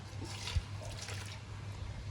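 A tumbler and a half of water is poured into a wet grinder over ground samai millet and idli rice batter, giving a soft, quiet splashing trickle with one small thump, faint and close.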